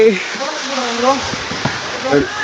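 Kudlu Theertha waterfall gives off a steady, broad rushing roar close by, with voices talking over the falling water.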